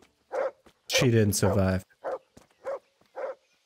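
A dog in the medieval video game Kingdom Come: Deliverance gives several short, sharp barks spaced in a loose rhythm, close and clear, around a brief stretch of someone speaking.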